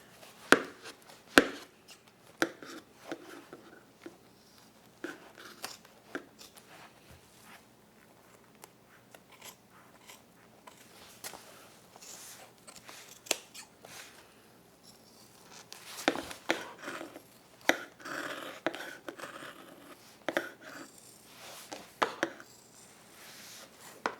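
Scissors cut through bag fabric around a strap connector, a series of irregular crisp snips and rustles, close and fairly loud, with quiet pauses between bursts and no talking.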